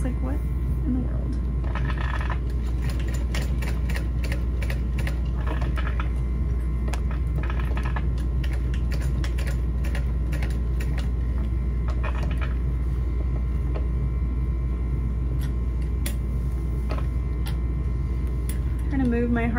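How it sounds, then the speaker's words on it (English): A sewing machine runs a box stitch on a backpack strap in short bursts of rapid mechanical ticking, separated by pauses, under a person talking. "then I'm gonna sew a box stitch around it."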